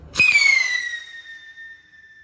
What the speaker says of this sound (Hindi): गाइस आप चलाते हैं दूसरी कंपनी की विस्लिंग वाली रॉकेट